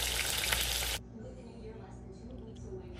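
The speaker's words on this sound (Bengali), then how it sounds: "এই তো মাছ ভাজা চলছে, অলমোস্ট হয়ে গেছে" Fish fries in a pan in a home kitchen, a loud dense sizzle that cuts off after about a second, leaving quieter kitchen sounds.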